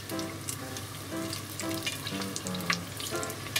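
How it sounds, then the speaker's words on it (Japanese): Onion rings deep-frying in oil, crisp batter in hot oil, give a steady soft sizzle with scattered light pops and crackles, plus a few faint clinks and a low hum underneath, with no talking. "パチパチパチっていう水分が飛んでるような音はしなくなってきたので"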